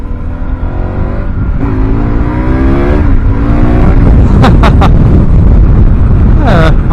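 A KTM 1190 Adventure motorcycle on knobby tyres rides on asphalt, its engine loud and close, revving with rising and falling pitch over steady wind and road rush.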